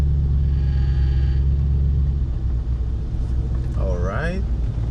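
Mercury Grand Marquis sedan engine idling and rumbling steadily at low revs during a slow U-turn, a loud continuous drone close by, with a voice speaking over it near the end.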